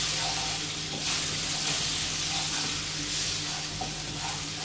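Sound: butter heating and sizzling in a pan

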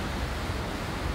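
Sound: waterfall rushing

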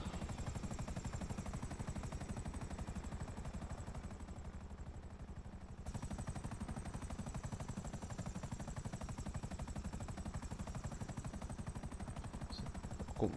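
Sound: helicopter flying in Grand Theft Auto V video game

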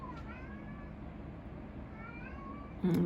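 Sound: cat meowing

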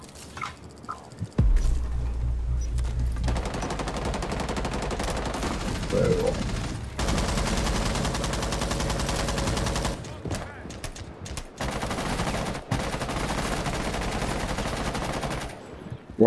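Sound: gunfire in video game Rainbow Six Siege

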